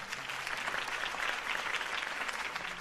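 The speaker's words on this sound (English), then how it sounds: "could have heard that applause" Crowd in a Batman video game applauds a Gotham mayoral campaign speech, a steady, fairly quiet wash of clapping with no talk over it.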